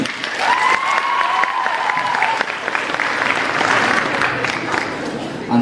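An audience at a high school freshman ball in Vaslui applauds steadily and loudly throughout, a dense, continuous clapping with some crowd noise and a voice briefly audible.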